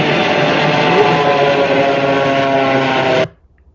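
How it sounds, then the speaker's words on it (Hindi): Japan Airlines airliner landing with its ram air turbine deployed, giving a loud, steady broadband roar with a sustained whine that holds for about three seconds before cutting off abruptly into near silence. "एक जापान एयरलाइन का विमान इसी तरह की आवाज के साथ लैंड हुआ था और उसमें भी रैम एयर टरबाइन खुला हुआ था"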